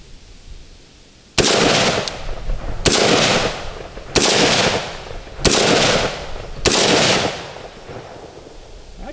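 Five loud, evenly spaced gunshots from a Smith & Wesson M&P 15 Sport II AR-style rifle crack out at close range, each with a brief echoing tail. A quiet outdoor backdrop sits between the shots.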